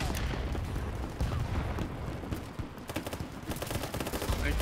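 Gunfire in the shooter game Battlebit crackles in rapid bursts and scattered shots, with a sharp flurry near the end.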